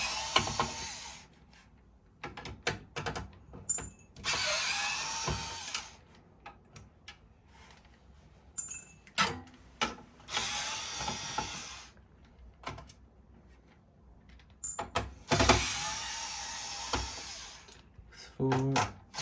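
Screwdriver unscrewing screws from a PC case, with repeated quick ratcheting clicks in short bursts separated by pauses and small handling noises, close and fairly quiet.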